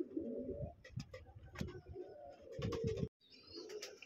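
Pigeons in a loft during morning feeding coo in repeated low throaty bursts, close and fairly loud, with scattered clicks and handling noises and a brief dropout near the end.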